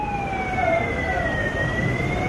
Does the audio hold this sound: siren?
yes